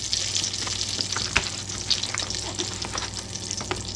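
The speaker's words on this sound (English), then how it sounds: "we're going to add a few onions in there to caramelize" Onions sizzling in hot oil in a pot before a chuck roast goes in, a steady close crackling hiss with scattered pops and a faint stir around the middle.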